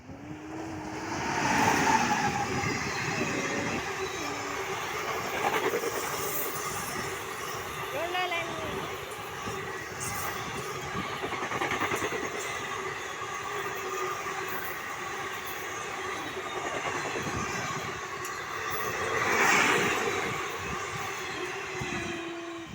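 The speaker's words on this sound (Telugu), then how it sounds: "చూడండి ఫ్రెండ్స్, ట్రైన్ అయితే వస్తుంది." An express train rolls past nearby with a sustained rumble and rhythmic clatter of wheels over rail joints, swelling and fading over many seconds while people talk throughout.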